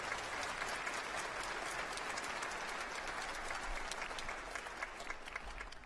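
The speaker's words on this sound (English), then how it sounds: "Could we have a round of applause for them as well?" A convocation ceremony audience gives a sustained round of applause for the event helpers, a dense steady wash of clapping that holds evenly throughout and eases slightly at the end.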